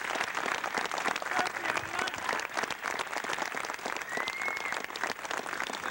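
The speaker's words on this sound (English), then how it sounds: "Give him a round of applause." A room of seminar attendees breaks into a round of applause, dense continuous hand clapping that holds steady and fairly loud throughout, with no voices on top.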